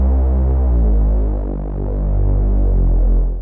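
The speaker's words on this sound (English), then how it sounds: "this is a Reese bass that I've made" A thick, detuned Reese bass synth built with a free plugin, holding a low sustained note that throbs and phases steadily with a slow swell in the middle, alone with no voices.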